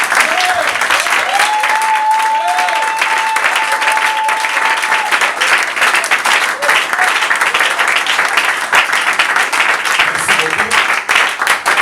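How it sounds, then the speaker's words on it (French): Congregation clapping and cheering at a church anniversary service in Durban, South Africa, a dense, loud and sustained wash of applause lasting the whole stretch, with a held whistle or voice tone rising above it early on. "Je veux que vous acclamez pour Dieu."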